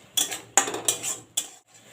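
Metal utensil scraping and clinking in a pan while Bengali masala paste of ground cumin and Kashmiri red chili is stirred and fried for a papaya curry; four distinct scraping strokes close by, with no talking.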